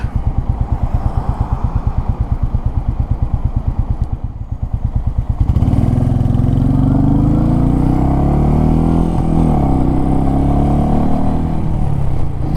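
A Royal Enfield 350 J-Series motorcycle pulls away from traffic lights, its single-cylinder engine thumping at idle before revving up loudly and accelerating through the gears, steady and close throughout.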